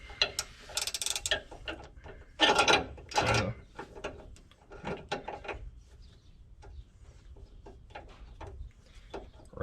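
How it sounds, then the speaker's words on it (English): Ratchets and wrenches work on bolts in a garage, giving loud, close bursts of rapid ratcheting clicks and metallic clatter in irregular runs, separated by short pauses. "Ratchets hitting, wrenches, there we go."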